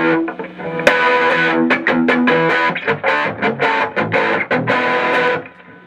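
An electric guitar on the bridge pickup through an overdriven Fender amp plays a string of choppy, distorted notes and chords, loud and gritty, ending with a fading ring.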